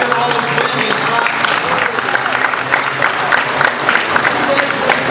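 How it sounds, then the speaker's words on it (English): A large outdoor crowd at a Scottsbluff County event gives a thunderous, sustained round of applause, dense and even throughout with some cheering mixed in. "to a thunderous round of applause"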